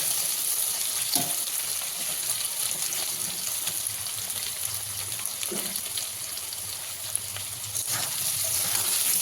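Chunks of taro root seasoned with turmeric and salt fry and get stirred in a pan, giving a steady, close sizzle with a few soft scraping stirs and no talking.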